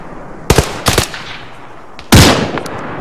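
Rifle gunfire from Marine scout snipers engaging an enemy soldier in Afghanistan's Zeko Hills: a sharp shot, a quick double crack, then a louder, longer burst, loud and close with no talk.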